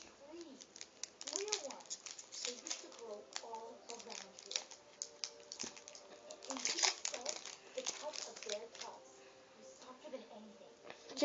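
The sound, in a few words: opening a Yu-Gi-Oh card pack wrapper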